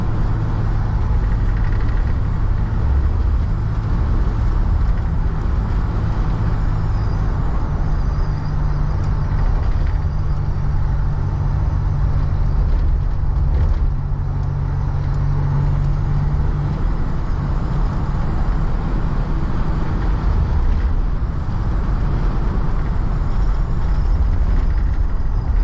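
A 1988 Dodge Ram B250 Safari van with loose steering on the road, heard from inside: a constant loud drone of engine and road noise with rumble and rattles, no voices.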